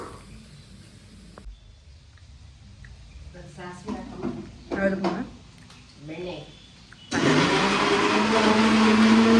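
Someone talks over light kitchen clatter, then a mixer grinder starts up loudly to grind mustard seeds into a fine paste, its harsh, whirring motor roaring close and steady until the end.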